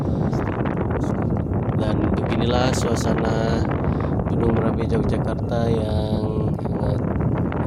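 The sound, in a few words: strong wind at Mount Merapi lava dome crater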